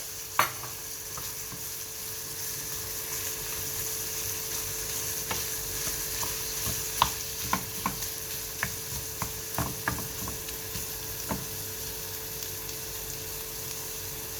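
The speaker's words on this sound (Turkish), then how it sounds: "Şimdi bunu da güzelcik soteleyeceğiz." Ground meat sizzles steadily in a hot pan while a spoon stirs it, with scattered clicks and taps of the spoon against the pan, no talking.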